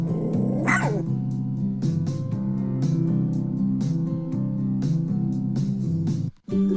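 A dog at a daycare barks repeatedly, close and loud, in a quick rhythmic series of barks and yips lasting several seconds, then stops abruptly near the end.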